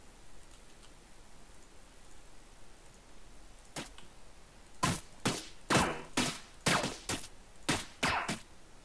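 Rapid weapon shots from a first-person shooter built in Unreal Engine 4 fire after a quiet stretch, one lone crack followed by a string of sharp, evenly spaced bursts, loud and close with no talk.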